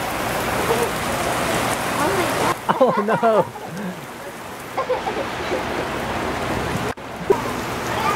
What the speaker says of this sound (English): Who cares about the rain?